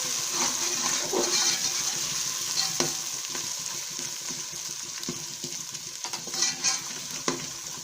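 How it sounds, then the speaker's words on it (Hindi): A spoon stirs paste frying in a pan for chicken pasta. A continuous close sizzle runs under irregular scraping strokes and occasional clinks against the pan. "चम्मच हिलाएंगे। और थोड़ी देर हिलाएंगे चम्मच।"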